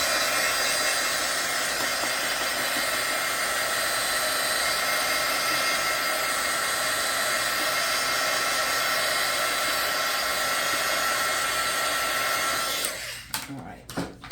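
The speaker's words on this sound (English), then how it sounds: "Now I'm going to hit it with the heat tool to help it dry quicker" A heat tool blows steadily for about thirteen seconds as it dries craft medium on paperclips. The loud, close whoosh and hiss hold constant, then it cuts off with a few clicks and rattles.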